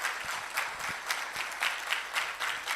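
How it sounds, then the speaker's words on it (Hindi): A church congregation claps together in sustained, dense applause at a steady moderate level, with no talking over it. "जोरदार ताली खुदावंद के जलाल के लिए।"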